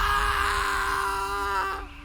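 A loud scream rings out in a forest scene of a narrated story, a sustained wailing cry that holds steady before trailing off and cutting to quiet.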